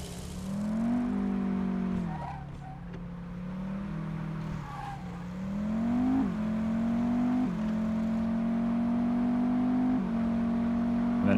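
A car engine hums steadily from inside the cabin, shifting pitch as it accelerates, slows and speeds up again while driving a short distance around a corner in a city.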